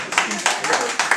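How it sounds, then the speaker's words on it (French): Applause from an audience at a French tribute concert, scattered claps with rhythmic bursts, over fairly loud voices talking nearby. "applaudissez très fort"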